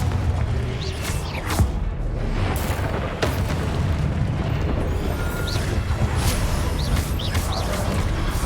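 A Confringo fire spell in Hogwarts Legacy explodes in repeated booming bursts over a continuous rumbling game soundscape.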